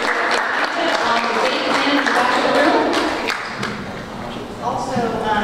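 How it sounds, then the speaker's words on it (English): Audience at a neighborhood watch meeting applauds a newly elected board member, a steady mass of hand claps from a modest crowd in a room, holding roughly even before thinning slightly near the end. "So let's give a round of applause for Tal Friend"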